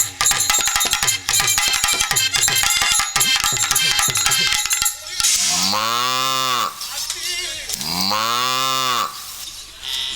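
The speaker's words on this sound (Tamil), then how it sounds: "மாடு சென்னைக்கு கத்துது." A cow mooing loudly and close by in a Tamil village setting, two long drawn-out moos following a stretch of loud background music, with no talking.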